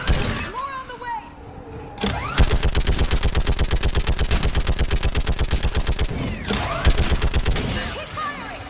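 Video game gunfire in Mass Effect 3, a rapid sustained automatic burst hammering at close range for several seconds, with shouted voices and explosive effects around it.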